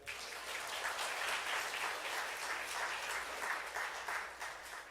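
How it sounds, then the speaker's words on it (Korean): A congregation at an Easter worship service claps steadily for a child called forward, a continuous moderate wash of applause from many hands. "박수 쳐주세요"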